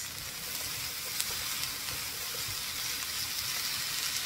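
Vegetables for Japanese yasai harumaki are stirred in a pan with about two tablespoons of oyster sauce, giving a steady, close sizzle with soft scraping and stirring throughout.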